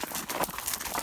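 A pony's hooves clip-clop on an outing outside Tbilisi, Georgia, a quick run of uneven hoof strikes close by in a short burst, over windy outdoor noise.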